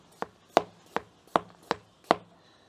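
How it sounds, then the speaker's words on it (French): A knife slicing a potato thinly on a cutting board, six crisp, evenly spaced chops in a steady rhythm, close and clear with no talk. "Donc, je vais la couper toute fine."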